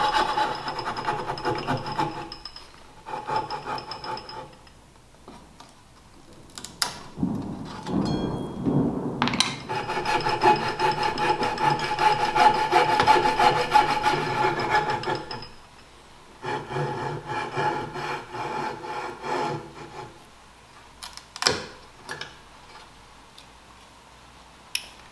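Fret saw cutting out the waste between hand-cut dovetails in wood for a built-in bench seat, a rough rasping stroke rhythm in bursts with pauses, close and moderately loud, no voices.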